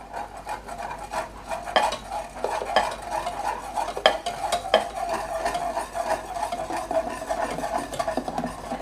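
A spoon scrapes and clinks around a pot of simmering milk on low heat, stirring steadily with occasional sharper knocks against the metal, close up and without speech.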